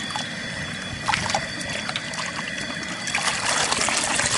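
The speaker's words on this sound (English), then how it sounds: "make sure you get the chicken going in the water and then watch him move it around" A chicken dunked and swished around in hot water for plucking, giving continuous sloshing and trickling with a few louder splashes, close by and alone with no talk.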